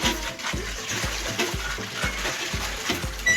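Utensils are scrubbed and rinsed under running water, with steady splashing and a rhythmic series of low thuds and clatters as the pots are handled, heard close up with no talking.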